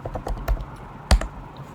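Keys clack on a computer keyboard as code is typed, a close, uneven patter of taps with one louder strike near the end, no talking.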